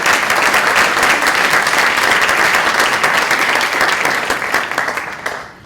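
Sustained audience applause at a seniors talent show, a steady dense patter of many hands that holds strong for several seconds before tapering off at the end.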